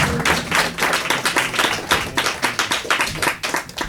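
Audience at a live comedy podcast taping clapping for a comedian, dense steady applause with quick overlapping claps throughout, fairly close and loud, no talking.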